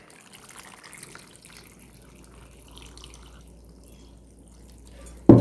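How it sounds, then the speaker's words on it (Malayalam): Water pours and trickles over chopped tapioca in a pot, a faint, steady dribbling that ends in a sudden louder splash. "ആവശ്യത്തിന് വെള്ളം ഒഴിച്ച് കൊടുക്കുക."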